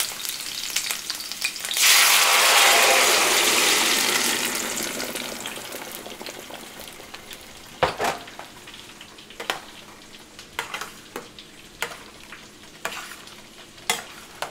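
Onion and chile fry in oil in a pan, a loud burst of sizzling swelling up as they go in and then easing to a steady, softer crackle, with a few sharp clinks and scrapes of stirring near the end.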